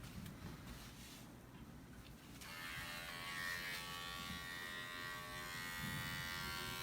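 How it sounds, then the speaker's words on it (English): An Andis Pulse LI5 adjustable blade clipper fitted with a 40 blade trims a dog's paw pads. Its steady, close electric buzz switches on partway through and holds even and loud to the end. "This is an adjustable blade clipper."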